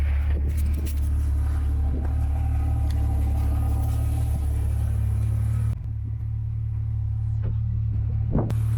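A Jeep YJ engine drones while driving, giving a loud, constant low rumble with road noise throughout and a few faint clicks near the end.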